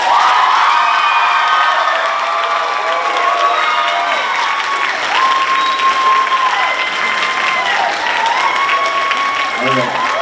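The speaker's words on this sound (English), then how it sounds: "One more round of applause for these guys." Audience at a school spring music concert giving a loud, sustained round of applause with cheering and children's shouts, dense and continuous throughout.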